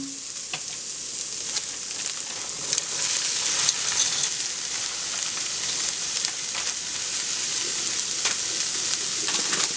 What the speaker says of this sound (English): continue sauteing for about an additional minute or two